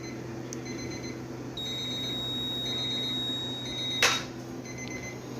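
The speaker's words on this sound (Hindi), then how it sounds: "हमारा अलार्म बज चुका है" A timer alarm in a medical lab, set for an albumin test, gives a steady, high electronic beeping for a few seconds over a constant machine hum, with one sharp click near the end.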